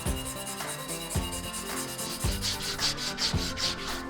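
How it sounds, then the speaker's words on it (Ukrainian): Hand sanding of a 1979 spinning fishing rod section with 320-grit sandpaper, steady rhythmic rubbing strokes repeating about every half second, close and fairly loud with no talking. "Їх усуваємо за допомогою 320-ї шкурки, виконуючи шліфування тим же способом."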